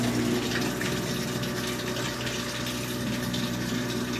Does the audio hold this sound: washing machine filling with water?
yes